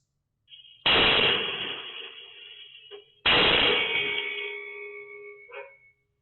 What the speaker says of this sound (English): isn't until 3:40 a.m. when Tiffany and Ross wake to the sound of two more explosions.